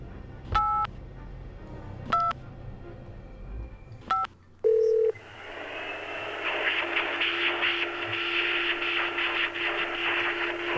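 Keypad dialing on a phone booth in a video game: three separate touch-tone beeps spaced about a second and a half apart, a longer tone, then a steady hum with faint background noise.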